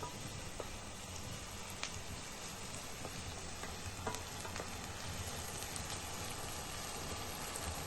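Chopped onions sauté and sizzle steadily in a hot pan for an egg curry, a dense continuous frying crackle with occasional louder pops and light stirring, close and alone without talk.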